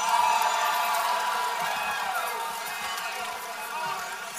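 A live concert crowd in San Juan, Puerto Rico, at a show, cheers and applauds in a loud, steady wash that fades slightly over a few seconds, with voices shouting through it.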